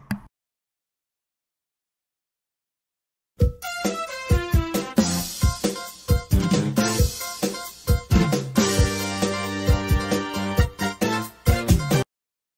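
A full instrumental karaoke backing track starts after a few seconds of silence and plays steadily with a strong beat and layered instruments, no singing voice.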